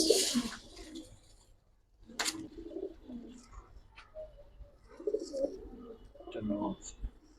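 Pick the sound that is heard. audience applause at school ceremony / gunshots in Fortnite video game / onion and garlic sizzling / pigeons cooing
pigeons cooing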